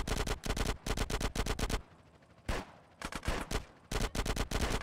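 A submachine gun in the video game GTA San Andreas fires in rapid bursts, loud and close. The bursts are split by short pauses, with a quieter lull in the middle.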